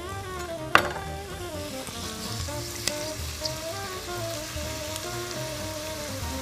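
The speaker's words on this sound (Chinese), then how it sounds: "现在把肉丝下锅" Strips of fatty pork shoulder hit a hot wok for stir-fried rice noodles, setting off a close, steady sizzle with a sharp spatter at the start and a few later pops and clinks, no talking.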